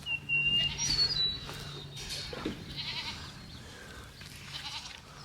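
Goats bleat on a farm where they graze near a hay bale, a few short, fairly close calls in the first seconds over quiet outdoor ambience with faint birds chirping.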